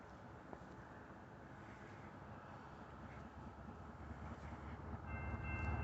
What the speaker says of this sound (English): we have a southbound BNSF train coming